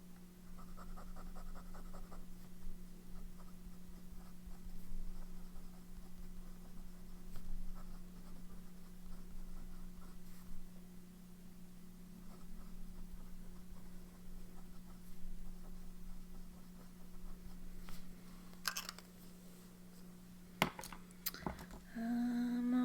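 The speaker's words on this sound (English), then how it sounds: "See, this one writes, yay." A fountain pen nib scratches faintly and steadily across paper over a low electrical hum. A few brief clicks and knocks come near the end.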